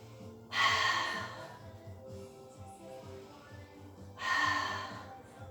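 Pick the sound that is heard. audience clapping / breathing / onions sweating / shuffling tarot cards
breathing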